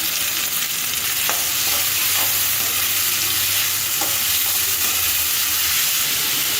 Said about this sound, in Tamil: வெட்டி வச்சுருக்க பூண்டை போட்டு நல்லா ஃப்ரை பண்ணிக்கோங்க. அடுத்து வெங்காயத்தையும் ஆட் பண்ணிக்கோங்க.